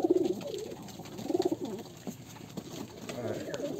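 Domestic pigeons, including a white pair settled on eggs in a loft, give soft low rolling coos in two or three close bursts, with faint rustling and background noise between calls.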